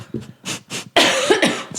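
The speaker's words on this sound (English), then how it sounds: "Stage fright. Cough." A few short, breathy bursts followed by a harsher, longer cough-like sound up close, all within about two seconds.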